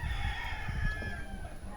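Native chickens cluck and a rooster crows in a stretched, wavering call, close by and fairly loud against a low background murmur.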